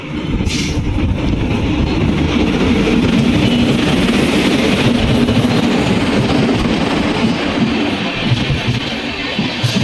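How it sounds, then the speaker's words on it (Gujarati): Okha–Mumbai superfast mail train of Indian Railways passing close by, a loud continuous rumble and clatter of wheels and wagons that holds steady for the whole stretch. "ભાઈઓ ટ્રેન આવી ગઈ છે"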